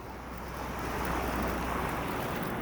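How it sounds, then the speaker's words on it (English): Wind driving snow against a camera on a city walk during Toronto's first snowfall, a steady close blustery rush with soft hiss, no talk. "The wind seems to be blowing the snow towards my camera"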